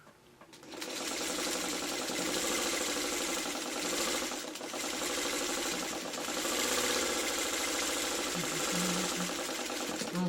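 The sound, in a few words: sewing machine sewing quilt block seams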